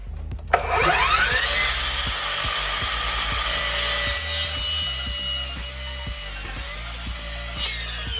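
A power tool running at its lowest speed cuts PVC pipe into short pieces, a low rhythmic grinding hum with a steady pulsing beat, close and continuous after a sharp start.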